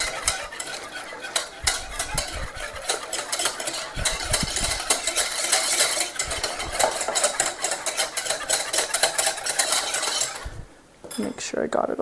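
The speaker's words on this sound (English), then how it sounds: "I'm just going to break that up with the whisk before I add the cream." A whisk rattles rapidly against a metal bowl while breaking up bloomed gelatin. The scraping and clinking is loud, close and continuous, then there is a brief pause and a few final taps.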